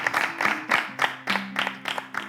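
Rhythmic group clapping in a studio, about a dozen even claps in steady time, close and fairly loud.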